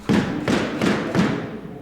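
Squash balls thud during a warm-up, four evenly spaced hollow hits about every third of a second, close and fairly loud with no talking.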